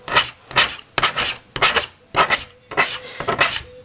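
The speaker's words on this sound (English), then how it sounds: "Just make sure you scrape all the junk off it when you're done." Plastic scraper dragged across a cutting mat to clear off leftover bits, a series of rapid rasping strokes in close succession, near and fairly loud, with brief pauses between passes.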